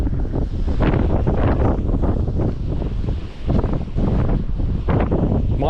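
Loud, roaring gusts of wind batter the microphone out at sea on a night squid-fishing boat, a constant heavy rush that surges and dips, with little else audible.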